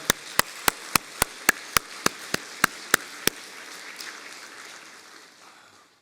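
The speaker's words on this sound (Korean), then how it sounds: "감사하니까 박수 한번 치는 게 안 좋겠습니까?" A church congregation at a Holy Week special service claps in unison: about a dozen sharp, evenly spaced claps in a quick steady rhythm, then a softer fading murmur.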